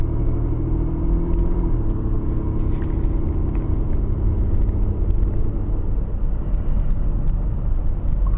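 A car drives steadily through a driving test lesson, its low engine rumble and road noise continuous and close from inside the cabin, with no talking.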